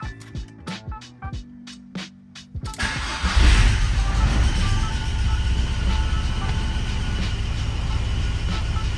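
A VW Passat B4 with a swapped 2.0 AGG engine cranks with several rapid starter pulses, catches and then settles into a steady, loud idle with the exhaust just refitted, heard up close and without talk.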